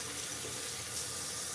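Cold water running steadily from a tap into a sink, a continuous close hiss and splash with no talk.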